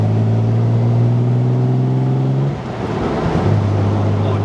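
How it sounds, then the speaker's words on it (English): A 1968 MGC Roadster with triple carburettors and overdrive out on the open road, its engine droning with a strong steady hum, dipping briefly as it shifts gear, then settling back into a lower, even note. "out on the open road, the engine, the triple carburettors, the overdrive unit, it's second to none."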